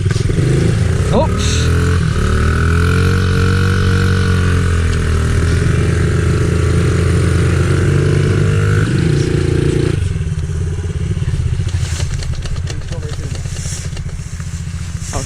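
Pit bike engine running loudly with a steady, slightly wavering drone and clatter, then dropping away as it stalls around two-thirds through, leaving quieter background noise; a person speaks briefly over it.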